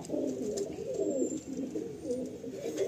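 Andhra pigeons coo softly in a loft in Kolkata, a low rolling series of repeated coos close by, steady and calm with faint background hiss.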